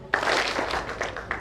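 An audience at a business summit in Eldoret claps together on command, giving a dense, steady burst of applause that fills the short moment close to the listener.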